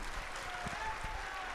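Faint, distant audience applause at a spiritual gathering in Vrindavan, a soft continuous patter of many hands with low rumbling underneath.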